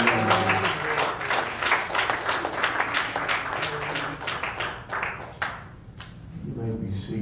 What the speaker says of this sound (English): Will you clap your hands unto the Lord?